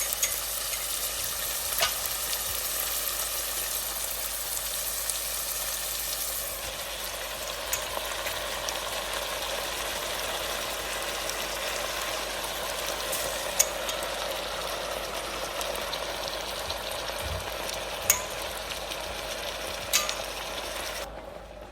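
Mustard greens cooking down in a hot pan give a continuous even sizzle and fizz up close, with faint occasional ticks and a utensil knock or two, no voices.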